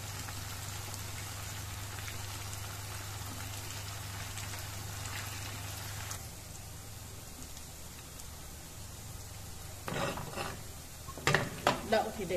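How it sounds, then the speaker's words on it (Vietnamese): Tofu fries in a pan with a faint, steady sizzle, and near the end a few sharp clinks and scrapes of utensils come through. No voices are heard. "Đậu rán giòn như vậy."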